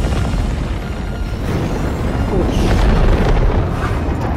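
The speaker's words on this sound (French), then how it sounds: "Pélican 1 débute son ascension." A Pelican-1 dropship lifts off in a video game, a steady low roaring rumble with booming swells that builds slightly over several seconds, loud and continuous.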